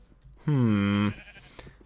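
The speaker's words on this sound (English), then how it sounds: "Hello, sheep. Wanna give me a wool?" A single loud sheep bleat from the Minecraft video game, one sustained wavering call about half a second long, close and clear, standing alone.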